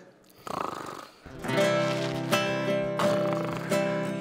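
A voice imitates loud snoring: a rough nasal inhale, then several long droning snorts with a rattling buzz, repeated in a slow rhythm up close.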